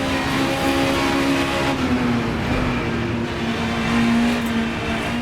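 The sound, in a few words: race car engine in Assetto Corsa video game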